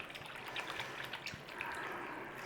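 Water poured into a soup can with leftover soup residue for a tomato basil sauce, a faint trickling, dripping fill with small splashes, quiet and brief with no talk.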